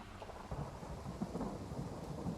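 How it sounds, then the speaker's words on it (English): Rain falls steadily in a Total War battle with low thunder rumbling underneath, a dense, even wash of noise heard alone at moderate distance. "The rain obviously is not favorable."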